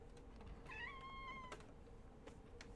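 A pet kitty cat lets out a clear, drawn-out meow of about a second in the middle of a quiet indoor room, with faint household knocks around it.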